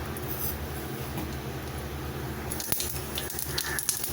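Mustard seeds spluttering and popping in hot coconut oil in a pan while cooking keerai, a steady sizzle with sharp crackles growing denser toward the end, close and alone.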